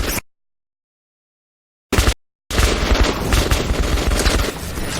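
Gunfire in the video game Metro Redux 2033, a loud rapid fusillade of automatic shots that breaks off briefly, then resumes as dense sustained firing after a short silence.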